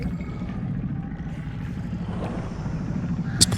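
A creature call in Subnautica 2 resembles a revving engine: a steady, droning low rumble that fluctuates slightly, with a sharper clatter at the very end.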